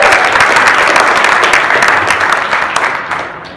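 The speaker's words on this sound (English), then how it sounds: "Let's give him a big round of applause." Dense audience applause fills a 2019 Las Vegas leadership workshop event hall, a steady roar of many clapping hands that stays loud throughout and eases slightly toward the end.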